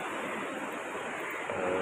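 Morning sea surf washes onto Arambol beach in Goa, a continuous broadband hiss and rush of waves at steady loudness with a slight swell near the end.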